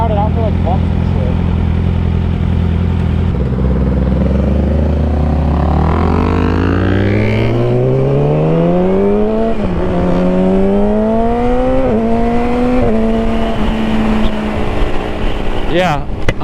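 A Yamaha R6 sport motorcycle fitted with a quickshifter, loud and close, its engine note climbing steadily through the revs and snapping up through several quick gear changes, each shift cutting the pitch briefly before it rises again.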